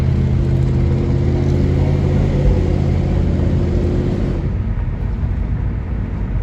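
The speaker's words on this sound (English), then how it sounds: "An ocean of pickup trucks." A crowd of pickup trucks drives at the Fort Worth Stockyards, a loud, continuous low engine rumble and road roar that fades slightly near the end.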